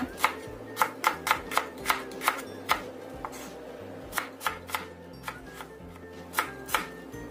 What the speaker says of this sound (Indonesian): Kemudian aku gunakan 3 butir bawang merah. Kita rajang tipis aja.